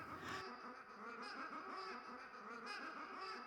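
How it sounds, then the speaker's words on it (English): A tape loop of geese squawking fades out an early art rock song, with quiet, repeated honking calls blurring into one another at low volume. "at the ending of the song fades out with a tape loop of geese"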